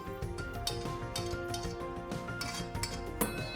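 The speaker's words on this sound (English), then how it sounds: "Let's transfer this into a grinder and allow these to cool down completely before grinding them" Toasted whole spices tip into a metal grinder jar, setting off a quick run of small clinks and rattles as they hit the steel, close and busy, with no talking.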